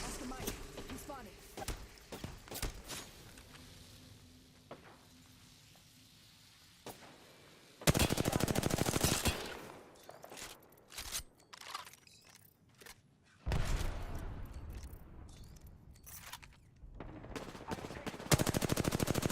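Gunfire in Apex Legends: sharp single shots early on, then loud sustained bursts of automatic fire in three long volleys, with quiet gaps and occasional talk between them.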